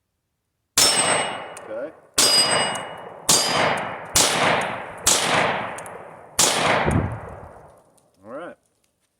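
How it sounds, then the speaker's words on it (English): Six loud gunshots ring out at an uneven pace, each ending in a metallic clang from a 10-inch steel target, followed by a brief spoken word. "Shooting that 10-inch steel target on the right."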